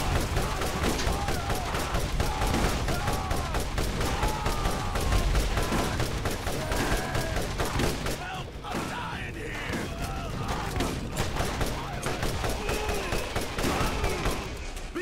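Gunfire in the video game Borderlands: dense, continuous bursts of rapid shots that run for the whole stretch, with machinery clatter and occasional yells mixed into the barrage.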